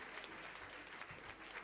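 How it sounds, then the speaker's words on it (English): An audience at a cooperative society meeting gives a short round of applause, a faint, steady wash of clapping heard from a distance. "Give yourselves a round of applause."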